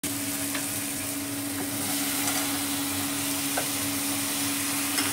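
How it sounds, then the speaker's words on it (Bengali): Taro pieces are stirred into shrimp fried with spices in a pan. A dense, steady sizzle runs close and loud throughout, with faint scrapes and knocks of stirring and no speech. "এটাকে আমি ভালো করে মিক্স করে নিব"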